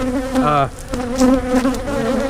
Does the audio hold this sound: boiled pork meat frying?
no